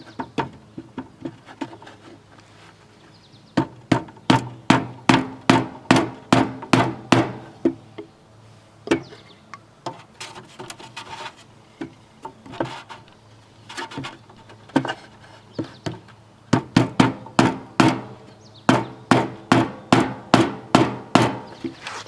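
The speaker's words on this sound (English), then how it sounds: "so I still can't get it off by pounding on it" A block of wood pounds on a stuck part of an Amana Quiet Zone 8000 BTU air conditioner, loud sharp blows in rapid bursts of several hits separated by brief pauses.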